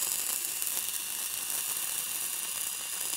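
A hydrogen-oxygen balloon torch flame burns through a metal plate with a steady, loud hissing roar that stays constant throughout, with no voices.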